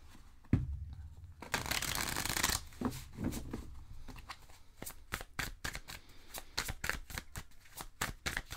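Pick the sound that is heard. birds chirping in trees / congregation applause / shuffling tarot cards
shuffling tarot cards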